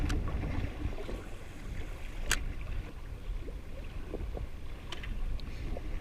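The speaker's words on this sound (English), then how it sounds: "Reasonable amount of chop just in this section at the moment, because we've got quite a bit of current and the wind pushing against it." Wind and choppy water slap steadily against a small fishing boat on a current-swept stretch, a constant low rushing wash with a few sharper splashes, fairly quiet and with no voices.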